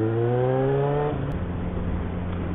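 A motorcycle engine idles high with its exhaust muffler removed, a loud close raw drone whose pitch steps down partway through, with road or wind noise mixed in and no talk.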